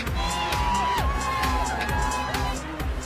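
A crowd waits out the rain at a fireworks show, cheering, whooping and chattering in a dense continuous din with some children's shouts, fairly loud and close.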